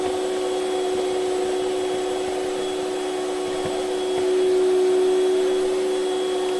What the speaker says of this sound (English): if you put really much suction, then all the berries end up in the vacuum cleaner